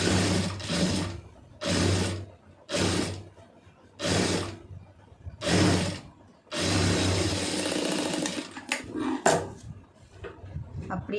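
A sewing machine stitching two fabric pieces together in bursts of rapid mechanical whirring, about five short runs followed by one longer run and some fainter handling noise.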